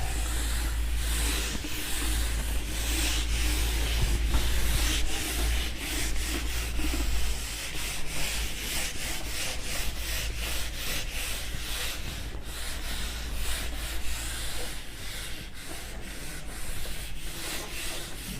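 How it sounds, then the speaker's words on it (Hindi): A duster rubs a magnetism diagram off a classroom board in continuous scrubbing strokes, rough and rhythmic and close to the mic, going on for about eighteen seconds with no talk over it. "पूरा का पूरा जो डायग्राम है इसको मैं रब करूंगा।"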